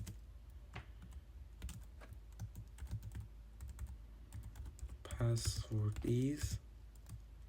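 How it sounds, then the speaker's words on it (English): Fingers type on a computer keyboard, giving a quiet, close run of uneven clicking keystrokes that carries on throughout, while someone talks briefly partway through. "Here we'll say printf"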